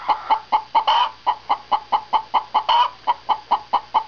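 A hen clucks in her nest during egg collection: a rapid, steady run of about sixteen loud, close clucks, a couple stretched into longer squawks, with no talking.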